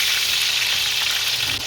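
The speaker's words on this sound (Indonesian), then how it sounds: "Minyaknya saya masukin lalu digoreng." Potatoes frying in oil in a home kitchen pan, a loud continuous hiss and crackle of sizzling that holds steady throughout without speech.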